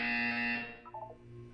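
A loud electronic buzzer from the video game Portal 2 blares in a steady, harsh tone for over half a second, then cuts off into a brief fluttering electronic chirp that fades away.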